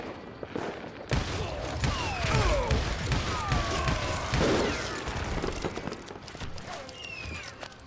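Gunfire in the Western video game Call of Juarez Gunslinger, scattered shots ringing out amid a busy mix of clattering hooves, creaks and whistling effects, fairly loud and continuous.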